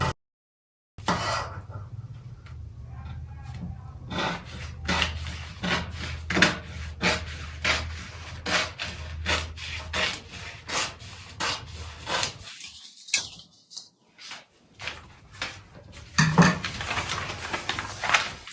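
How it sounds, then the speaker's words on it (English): Scissors trim excess paper from a drafted peplum dress pattern, a run of quick, close rubbing and snipping strokes in an irregular rhythm, with a brief quiet gap partway through and no speech. "So I'll go ahead and trim off the excess."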